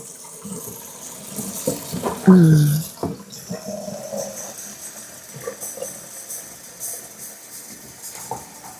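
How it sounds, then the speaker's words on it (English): Tap water runs into a measuring cup, a steady faint splashing rush broken by short kitchen clatters, while water is measured out for homemade bread dough. "All right, got 2 cups of water."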